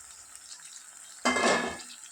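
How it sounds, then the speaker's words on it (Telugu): Stuffed eggplants drop into hot oil tempering for gutti vankaya curry and set off a sudden loud sizzle after a quiet moment. The sizzle then eases slightly as it continues. "ఇప్పుడు మనము స్టఫింగ్ చేసినటువంటి ఈ వంకాయల్ని తాలింపులో వేసుకుందాం."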